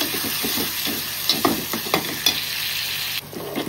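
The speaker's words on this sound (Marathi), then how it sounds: "टोमॅटो व्यवस्थित शिजवून घेऊ." Chopped tomatoes cook in a hot pan for an Agri-style fish fry masala, a steady close sizzle with a few scraping stirs and clinks, with no talk.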